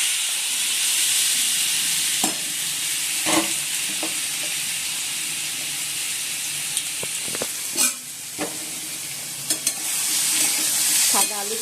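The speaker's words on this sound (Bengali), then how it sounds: "কড়াইতে তেল দিয়ে দিচ্ছি, আর কালো জিরা দিয়ে দিলাম, আর আলুগুলো একটু ভাপিয়ে নিলাম" Potatoes fry in a hot wok with oil and nigella seeds, giving a loud, steady sizzling hiss broken by sharp scraping clicks of stirring throughout.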